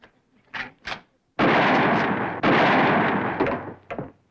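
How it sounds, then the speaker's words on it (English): Two loud gunshots blasting at a telephone wire, each a sharp crack followed by a long roaring boom, preceded by brief thumps and followed by a short fading pop. "It took you 2 shots to get that wire."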